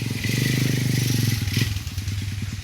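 Motorcycle passing along a rural path: a close, loud, throbbing engine putter with a rhythmic pulse that peaks and then eases as it moves on, with some rattly clatter mixed in.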